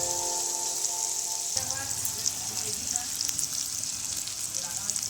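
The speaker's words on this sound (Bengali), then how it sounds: "তো টমেটোগুলো দেওয়ার পর একটু নেড়ে নিচ্ছি।" Chopped tomatoes with salt sizzle loudly in a pan while being stirred, a continuous crackling fry with scraping stir strokes and faint talk in the background.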